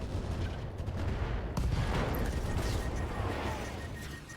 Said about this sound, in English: Give him all the machine guns.